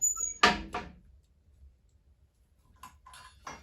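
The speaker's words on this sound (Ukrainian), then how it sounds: "Зараз відкриваємо дверку і дивимося." Small metal door of a wood-burning heating boiler being opened, a couple of sharp clanks and scrapes up close, followed by a quiet pause and faint light rattles.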